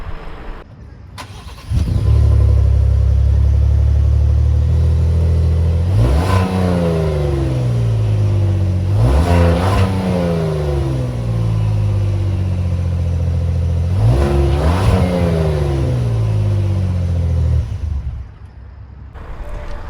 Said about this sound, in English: What you guys just heard was the whistle of the twin turbocharged engine, which actually sounds great.